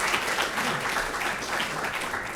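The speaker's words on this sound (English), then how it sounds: "Round of applause for Kent." An audience at a KISS showcase applauds a departing speaker named Kent, a steady, dense burst of clapping that fills the whole stretch at moderate volume, with a little faint talk underneath.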